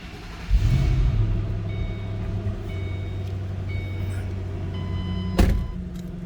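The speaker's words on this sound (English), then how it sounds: "Let's go ahead and fire it up." A 2007 Ford Mustang Shelby GT500 starting: a brief cranking rush gives way to a steady low engine hum, with a soft electronic chime and a clunk near the end.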